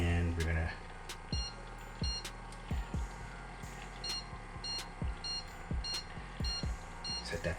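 An electric cold brew coffee maker gives several short electronic beeps spaced across the clip as its timer is set, fairly quiet against a faint room background.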